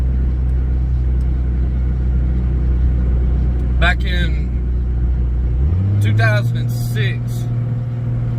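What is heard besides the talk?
heavily loaded truck engine rumbling while towing a dump trailer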